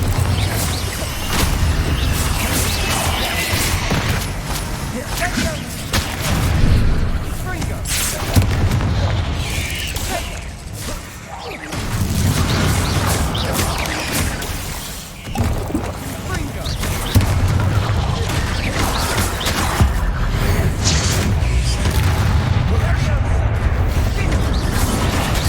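Repeated Bombarda explosion spells in Hogwarts Legacy, loud booming blasts and crashing impacts in dense, continuous combat, with a voice casting spells over the chaos.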